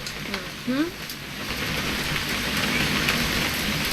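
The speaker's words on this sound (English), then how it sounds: "It's gonna rain the whole weekend, isn't it?" Steady rain hisses in the video game What Remains of Edith Finch, a dense wash of falling drops that builds and holds, with a brief voice-like sound early on.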